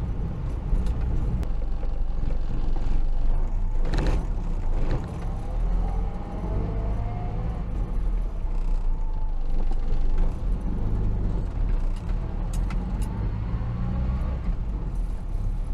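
A Morris Minor car drives along on a road test after brake adjustment, with a steady engine drone and road rumble heard from inside throughout, plus occasional clunks and rattles.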